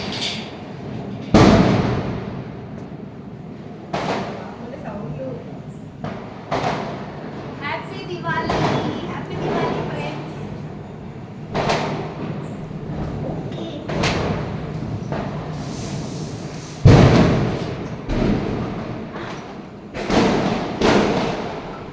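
Diwali firecrackers burst in a residential parking area, sharp bangs and thuds scattered irregularly across the stretch, some loud and close, others fainter. People talk throughout.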